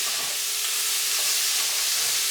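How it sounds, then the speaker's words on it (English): Onions brown in a hot pan with a steady, bright sizzle and hiss that stays even throughout, with no voices over it. "I added the onion to the last bit. And we're going to brown those"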